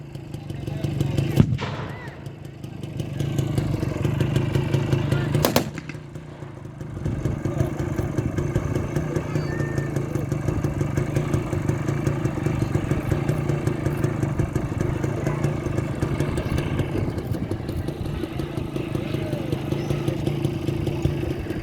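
Small German Fieseler Fi 156 Storch liaison plane at a WW2 battle re-enactment, its engine droning steadily throughout, with two sharp bangs early on and the drone briefly dipping before settling back.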